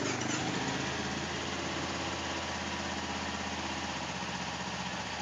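A small Honda CBR150R sport motorcycle engine idles smoothly and steadily up close, a constant buzzing putter with no speech.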